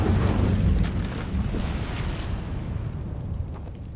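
Incendio fire spell cast in the video game Hogwarts Legacy, a loud fiery whoosh and rumbling burst that fades over a few seconds.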